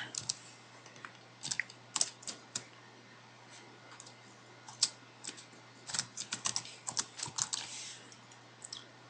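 A password being typed on a computer keyboard during a login, with quiet, irregular clusters of key clicks and brief pauses over a low steady hum, with no talking.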